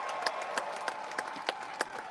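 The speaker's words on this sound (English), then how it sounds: "Crowd on their feet." A crowd applauds and cheers at the World's Strongest Man 2025 final after a Max Flintstone press lift, steady clapping with sharper bursts, no talk heard.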